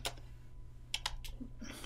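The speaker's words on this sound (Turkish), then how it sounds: "sohbet penceremize yazayım" Quiet bursts of typing on a computer keyboard, a handful of soft, uneven key clicks entered into a chat window over a low electrical hum, with no one speaking.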